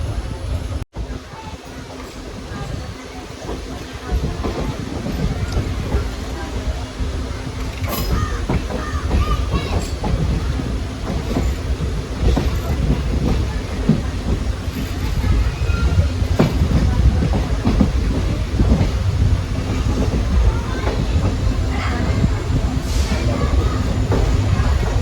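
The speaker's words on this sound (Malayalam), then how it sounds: "അപ്പോൾ അതൊക്കെ പോയി നമ്മൾ പതുക്കെ നമ്മുടെ നിലമ്പൂർ റോഡ് സ്റ്റേഷനിലേക്ക് കയറുകയാണ്" A train on the Shoranur–Nilambur rail route slowly pulling into Nilambur Road station, a steady rumbling roll with rhythmic wheel clatter growing slightly louder, while crows caw repeatedly nearby.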